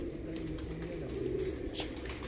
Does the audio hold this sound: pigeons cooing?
yes